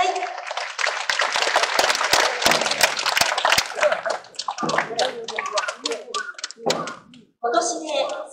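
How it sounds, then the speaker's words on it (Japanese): An outdoor street crowd at the 2022 Sendai Aoba Festival claps to welcome a matchlock gun troupe at a Date-style firearm demonstration. Dense applause fills the first four seconds, then thins into scattered claps as a voice speaks over it. "皆様盛大な拍手でお迎えください。"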